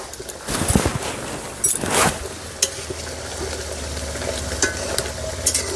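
A vegetarian papad omelette frying in a pan while it is stirred and turned, with a few loud scraping strokes early on over a steady soft sizzle.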